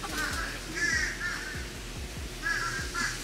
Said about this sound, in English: These birds are huge.